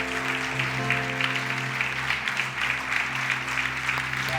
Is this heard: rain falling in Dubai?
no